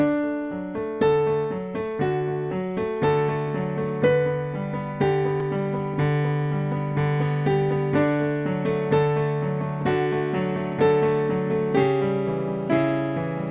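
A melodic instrumental étude in a bright major scale, with steady repeated notes and a sustained low bass tone underneath, played at an even, moderate tempo.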